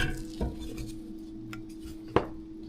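Peach pie filling being stirred in a hot pot, with a few soft scrapes and then one sharper clink of a utensil against the pot, all quiet and close.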